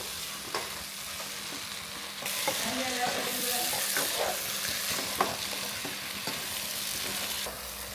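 Stirring and frying a soya protein roast in a pan, continuous close sizzling with repeated scraping strokes of a spoon, the frying growing louder partway through.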